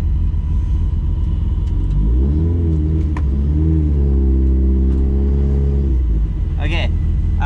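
A supercharged Proton Saga BLM time attack car idles with a deep, loud rumble, then its engine rises and swells as it pulls away before settling back, with speech over it.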